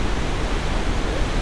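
A waterfall of sewage water roaring as a dense, steady rush of broadband noise, loud and continuous with no other sounds.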